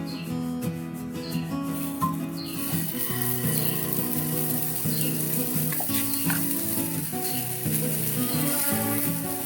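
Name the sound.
cooking oil heating and sizzling in a pan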